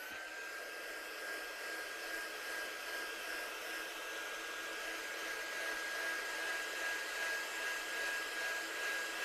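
A heat dryer runs over a freshly stamped watercolour card, a steady close whirring hum with a thin whine that holds evenly throughout, with no talking.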